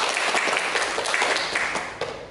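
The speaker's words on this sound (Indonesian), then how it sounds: "Tepuk tangan untuk kita semua." Group applause from students in a classroom during a school guidance counseling session, a dense, steady burst of many hands clapping close by that fades slightly near the end.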